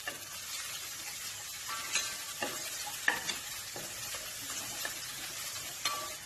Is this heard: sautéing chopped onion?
yes